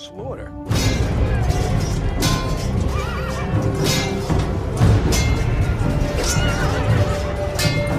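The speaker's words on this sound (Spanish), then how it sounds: "el relincho de dolor de un caballo" A loud, strained whinny of a horse in pain rises over a dense, chaotic din of crashes and thuds, with cries ringing out through continuous battle noise.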